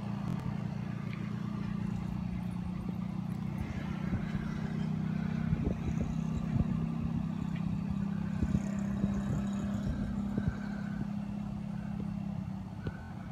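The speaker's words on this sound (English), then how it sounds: "Here comes the moped guys" A group of mopeds passes along a city street, their engines forming a continuous buzzing drone with sharp mechanical ticks and pops scattered through it, at a moderate distance.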